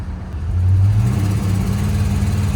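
An old Dodge Monaco, running for the first time in years, roars loudly from close by as the transmission kicks down. The engine surges into a rough, breaking-up rev that holds to the end.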